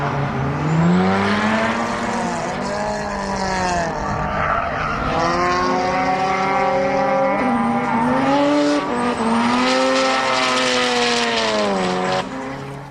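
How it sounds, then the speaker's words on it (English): A Mazda RX-7 drifting at the D1GP round at Sugo, its engine wailing and rising and falling in pitch as the tyres squeal and pour smoke, loud and close with shifting revs throughout. "Azumoto's RX-7, which just pumps smoke off the tyres."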